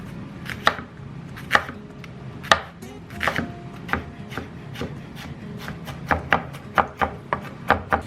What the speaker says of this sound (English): we're gonna need a tablespoon of finely chopped onion